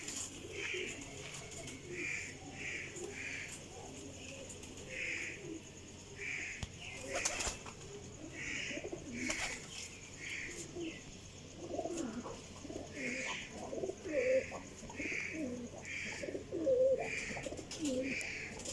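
Flying pigeons coo in a repeated soft rhythm, a bird-keeper's flock of high-quality flying pigeons, with occasional wing flaps and distant chirps over a quiet background.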